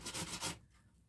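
Pumpkin rubbed on a medium grater makes a few quick rasping strokes close up in the first half second, then fades to quiet.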